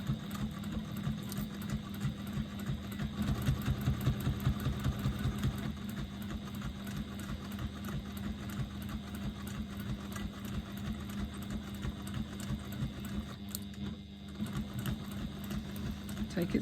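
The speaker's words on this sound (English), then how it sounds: "I'm going to stitch all the way around the outside, stitching all of those layers together" A sewing machine stitches all the way around the outside of stacked fabric layers, a steady close mechanical whirr running continuously from start to finish with a slight swell early on.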